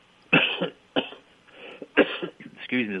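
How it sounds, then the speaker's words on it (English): Several sharp coughs burst out close by, separated by short pauses, with brief throat sounds between them. "excuse me as I cough."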